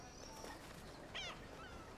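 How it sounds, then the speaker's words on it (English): Seagull call from the wildlife video game Alba: A Wildlife Adventure, a brief faint cry rising over a steady ambient game background, heard once and alone. "Oh, seagull."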